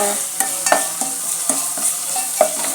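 Browned onions frying with ghee and oil for a biryani-style khichdi, a continuous close sizzle broken by regular scraping stirs of a spoon against the pan.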